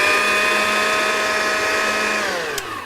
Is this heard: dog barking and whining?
no